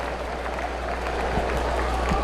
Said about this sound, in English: Let's give her and Team Black another round of applause.